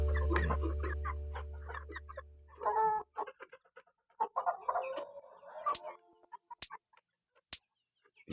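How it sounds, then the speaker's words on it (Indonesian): Bangkok chickens cluck in a coop, a few close, throaty calls mixed with low rustling, followed by several sharp isolated clicks. "Seperti ayam Bangkok ya"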